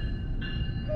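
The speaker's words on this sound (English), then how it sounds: "Here comes a northbound train." A northbound double-decker commuter train passes on the New Jersey coast line, a steady loud rumble of rolling wheels and engine with a faint high squeal near the end.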